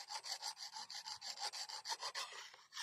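A file rasps rhythmically along a grass-cutting blade as it is sharpened by hand, with about a dozen quick, even back-and-forth strokes that are fairly faint and close.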